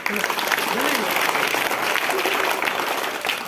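An audience at a government primary school motivational program bursts into loud, sustained applause that fades slightly at the end, with voices heard faintly beneath the clapping.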